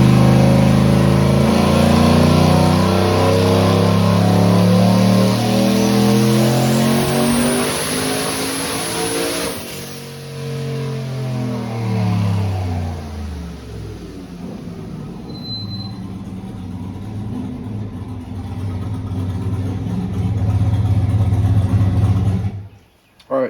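Outboard motor on a pontoon boat revving up loudly and close, its pitch rising through a long climb, then holding at a steady high roar before falling away near the end.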